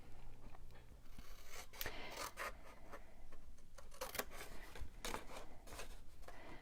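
Scissors cutting through scored cardstock for a Close to My Heart gift box project, a soft continuous rasping snip with brief crisp bursts, close and quiet with no talking.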